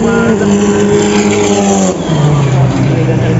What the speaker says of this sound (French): Le bruit des moteurs.